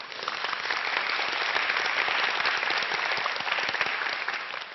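Big, continuous applause fills a lecture hall as an audience claps steadily for a speaker on stage, a broad wash of hands at an even level with no talking.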